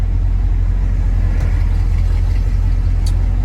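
A 1967 Pontiac Firebird driving in traffic on a hot day, its engine a steady, loud low rumble with constant road and wind noise throughout.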